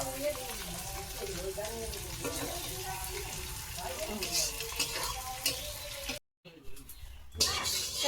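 Potatoes fry in oil while being stirred, giving a dense sizzle with scraping and clinking from the pan, then a sudden short gap and quieter frying afterward.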